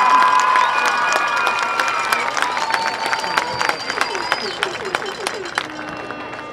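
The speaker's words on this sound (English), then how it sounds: "more round of applause for the senior" A stadium crowd at a high school marching band contest applauds and cheers for a senior. The clapping is loud and sustained, with shouts and whistles, and sustained horn-like tones ring above it, before it thins at the end.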